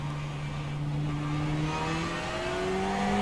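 A Ferrari Challenge race car at Watkins Glen in a sim racing game howls as it accelerates, its engine note climbing steadily in pitch, loud and continuous with no talking.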